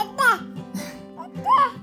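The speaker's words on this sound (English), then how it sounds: "that's my son making little baby sounds" A baby babbles and coos in short bursts with brief pauses, close and moderately loud, a faint hum running underneath.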